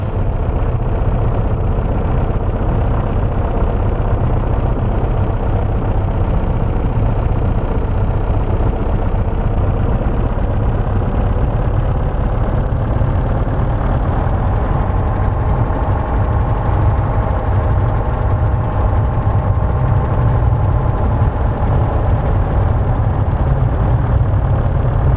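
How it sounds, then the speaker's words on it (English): The P-38L Lightning's engines hum and rumble at steady low power while the aircraft taxis in a VR flight simulator, a continuous loud drone with a faint tone shifting slightly partway through, no talk. "We're basically going to be taxiing straight, and we're heading back to where we started"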